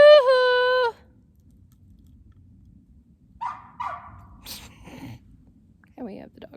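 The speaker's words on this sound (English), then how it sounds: "And we have the dog barking." Two short, distant dog barks in the woods, heard after a loud drawn-out human call, with a few faint scattered sounds following.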